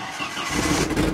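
A car engine cranks and sputters on a gas tank filled with a gallon of 152-proof Everclear alcohol, a steady, close, rough churning that builds slightly over the brief moment, with no talking.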